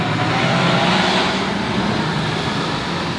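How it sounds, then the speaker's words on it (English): A big bus drives past on a Washington DC street, a loud, close, steady roar of engine and tires that peaks early and eases slightly as it moves on, with no voices. "let's see as the bus goes by"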